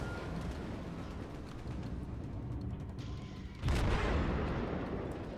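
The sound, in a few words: naval gunfire barrage in World of Warships video game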